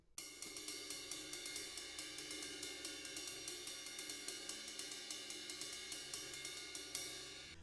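Jazz ride cymbal pattern on a drum kit played fast, a dense, even stream of bright cymbal strokes with steady swing, close and alone without talk.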